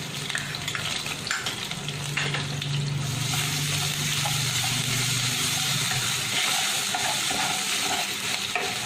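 Ginger-garlic paste fries in hot oil with a steady, continuous sizzle, close by. Occasional stirring scrapes and a faint low hum sound underneath.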